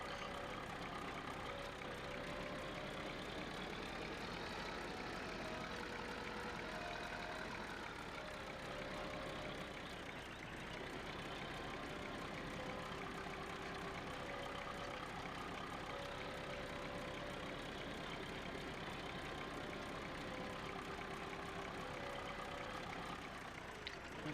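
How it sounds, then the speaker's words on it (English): An IMT tractor engine idles in the Farming Simulator 15 video game, holding a steady, unbroken mid-pitched drone with a faint periodic whine for over twenty seconds, with no talking. "This IMT tractor."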